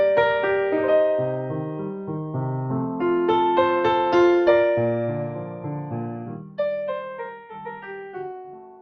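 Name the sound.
keyboard playing a famous prelude attributed to Bach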